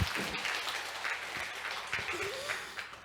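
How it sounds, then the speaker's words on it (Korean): A church congregation claps together during a Sunday service, a full, sustained round of applause that fills the room, with a few faint voices mixed in. "우리 하나님께 영광의 박수 한번 드리겠습니다."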